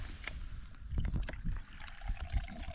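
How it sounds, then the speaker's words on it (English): Beer is poured out from a can outdoors during sub-zero wild camping in the Yorkshire Dales, a faint trickling splash of liquid with light handling noise and wind around it. "And then let's pour some of this out."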